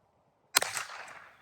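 A single sharp gunshot cracks at a can of garbanzo beans during youth beginner target shooting at an outdoor range, moderately distant, followed by a short decaying echo after a quiet moment.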